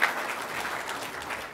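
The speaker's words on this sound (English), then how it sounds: "Oh, I forgot the round of applause." A short burst of audience applause, steady clapping from a crowd at a live food-and-nutrition presentation, heard alone without talk.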